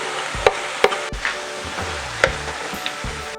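Squid and mixed seafood sizzle in a hot pan with soy sauce for pancit bihon as a utensil stirs through, giving a steady close frying hiss broken by several sharp scraping clacks against the pan.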